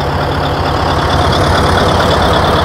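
A Caterpillar 988B wheel loader's heavy diesel engine, an older 375-horsepower machine, runs steadily at idle, a deep continuous rumble with a low throb and no pauses, close by and loud.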